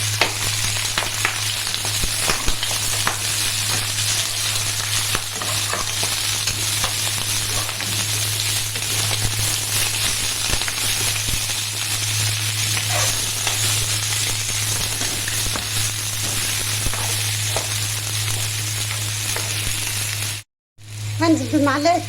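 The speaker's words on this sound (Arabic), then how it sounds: "هنزل بقى عليها بالبصل، بصل مقطعه شرايح بالشكل ده كده اهو" Sliced onions hit hot oil in a pan with browned beef head meat, frying with a loud, steady sizzle and hiss that runs unbroken for about twenty seconds, with a short cut near the end and a brief voice after it.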